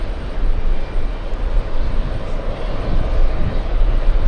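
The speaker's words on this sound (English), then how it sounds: "I wonder if it's taxiing under its own power, or is it going to the gate to pick up some passengers?" An airliner taxiing at an airport, heard as a loud, steady low jet-engine rumble and roar that holds continuously throughout with no voices.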